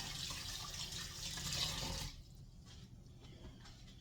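Tap water runs steadily into a bowl in a kitchen sink as it is rinsed out after holding cake batter, then stops partway through, leaving quieter dripping and small handling sounds.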